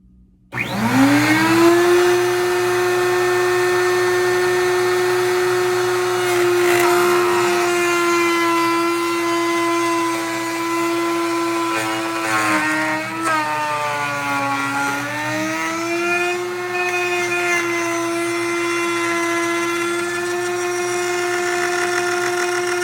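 Router spinning up and then cutting an inside bevel on a mirage guitar neck, a loud steady high whine that holds for over twenty seconds, dipping slightly in pitch as it bites into the wood.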